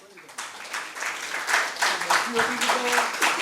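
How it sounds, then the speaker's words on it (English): A welcoming round of applause from an audience at a talk on an Avestan holistic diagnostic system, building from quiet into steady clapping, with a voice speaking over it partway through. "let's welcome her with a loud applause"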